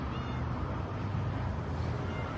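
A cat stuck high on a tree branch meows amid steady outdoor background noise, its calls faint and partly buried in a broad, continuous hiss through the short stretch.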